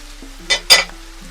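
Ground spices hitting a pan of sizzling okra for homestyle masala bhindi on a low flame: two short bright bursts of sizzle and stirring over a steady low hum, close and moderately loud, with no talking.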